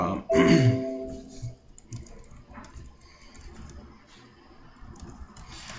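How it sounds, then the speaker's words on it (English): Fingers tap on a computer keyboard in a run of light, irregular clicks, after a brief voice at the start. "I would go to Google, and I would type in something like"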